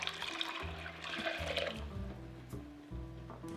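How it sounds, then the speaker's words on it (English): Four cups of water poured into a pot for green pea soup, a faint, close splashing and gurgling that lasts a few seconds with a low background hum. "add 4 cups of water"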